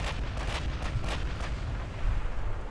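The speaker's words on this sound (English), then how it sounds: "He's hitting with the 7-inch guns." Rapid repeated booms of 7-inch naval guns firing in the warship game Ultimate Admiral: Dreadnoughts, a dense rumbling barrage of overlapping shots with steady low rumble beneath.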